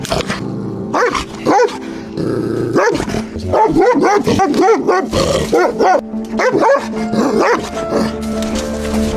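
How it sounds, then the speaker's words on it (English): A dog locked in a cage barks and growls in loud, close, irregular bursts, with deep gruff barks clustered in rapid runs and brief pauses between them. "Rescuing a locked up dog."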